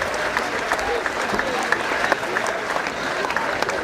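Stadium crowd applause at an athletics meet after a high jump clearance, broad and continuous with sharper claps and crowd noise mixed in, with a voice faintly present.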